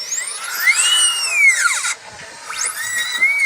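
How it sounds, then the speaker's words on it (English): A dental drill grinds on teeth with piercing high whines that sweep up and down, cutting off briefly and then returning, close and loud over faint background. "you hear a drill shaving off my teeth"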